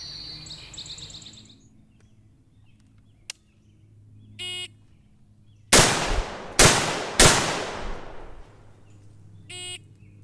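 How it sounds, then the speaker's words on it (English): Three loud, sharp SOCOM16 rifle shots fired at a target's head in quick succession within five seconds, each ringing out briefly, with electronic beeping signal tones before and after. "the shooter has to fire 3 rounds into the head of the target in a time limit of 5 seconds"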